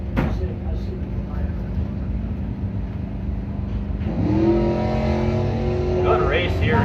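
Drag racing at a street-night event, an 1986 Trans Am against a Camaro. Loud engines rumble steadily, then one rises sharply in pitch as it accelerates away, with a commentator talking over the noise.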